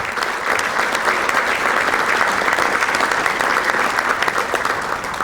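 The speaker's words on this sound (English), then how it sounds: "Let's have a round of applause for them." Steady, dense applause from a breakfast audience honoring a motorcycle event committee, many hands clapping continuously throughout with no pauses, fairly loud and close.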